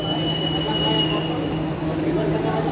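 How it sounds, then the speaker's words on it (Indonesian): An MRT Jakarta train pulls away from the platform at Blok M station, a loud steady rumble with a thin high whine and a low hum, amid crowd noise on the platform. "The train bound for Bundaran HI Bank Jakarta at platform 4 is departing."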